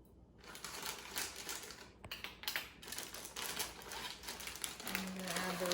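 Knife chopping ingredients on a cutting board while making a kimchi egg drop soup, a dense run of quick close taps and knocks under a faint voice.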